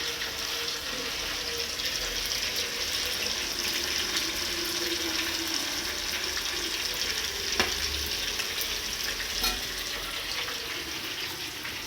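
Chicken 65 frying in a pan and stirred now and then, giving a steady close sizzle with a few faint clinks of the utensil, with no voices over it.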